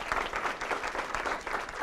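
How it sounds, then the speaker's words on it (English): An audience applauding World War II veterans at a ceremony in San Jose, California, steady and fairly loud clapping from a sizable crowd that keeps going the whole time. "Please, big round of applause for these brave men and women."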